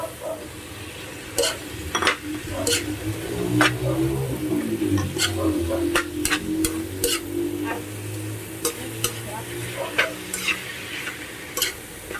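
Pork sizzles and fries steadily in a pan with a little sugar, while a utensil stirs and clinks against the pan in repeated sharp scrapes throughout.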